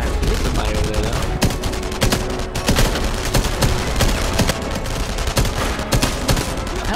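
Rapid bursts of gunfire from an unfamiliar weapon in the shooter game Enemy Front, loud and close, with sharp repeated shots over a dense layer of battle noise and background explosions.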